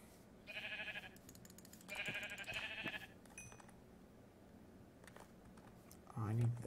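Minecraft sheep bleat in short wavering bursts, two prominent ones followed by a fainter call, mixed with a voice and keyboard clicks.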